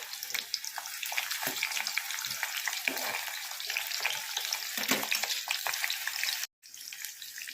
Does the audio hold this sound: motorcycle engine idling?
no